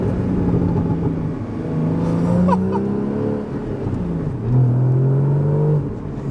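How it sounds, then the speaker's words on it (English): A Porsche Cayman 981 with an aftermarket exhaust accelerates through the gears, a loud, close engine note rising in pitch, dropping at a shift, then climbing again over road rumble. "What makes this car a bit more special than your average 981 Cayman is this aftermarket exhaust"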